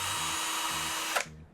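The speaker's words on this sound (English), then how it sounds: "a drill with a drill brush bit" A power drill fitted with a small drill brush bit scrubs sneakers, giving a loud, steady whirring buzz that cuts off abruptly near the end of the clip.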